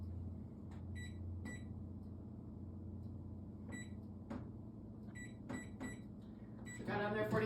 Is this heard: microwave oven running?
yes